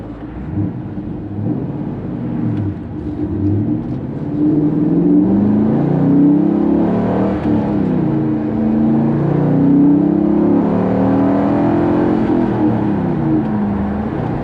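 A 2002 Corvette C5 Z06 in Quicksilver Metallic drives along a highway, its engine droning steadily and rising as it accelerates through the gears, with a constant loud cabin rumble and no voices.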